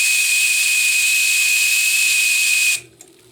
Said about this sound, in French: Dès que j'accélère, dès que je consomme de la vapeur,